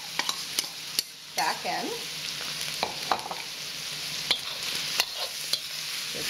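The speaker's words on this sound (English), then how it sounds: "And now we're going to add the mushrooms and dried shrimp" Ground pork, mushrooms and dried shrimp stir-fried in a pan: a steady, quiet sizzle broken by sharp, irregular utensil scrapes and taps, with a faint voice briefly at the start.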